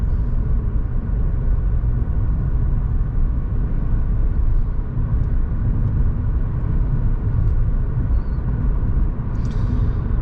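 A car leaving town onto an 80 km/h road during a driving-test route near Billom, its engine giving a steady, loud in-cabin drone with road rumble and no talking.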